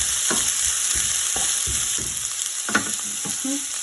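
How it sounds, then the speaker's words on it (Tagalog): Garlic and onion frying in hot oil, a constant bright sizzle broken by rhythmic scrapes and clacks of a spatula stirring the pan, with no voices. "Nalagay ko na yung oil, bawang, and onion."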